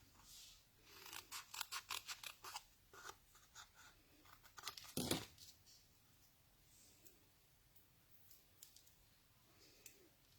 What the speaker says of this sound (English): I'm just going to cut another strip.